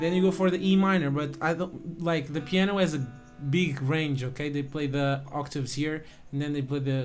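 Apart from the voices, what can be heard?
No distinct noise like a dog, phone or traffic.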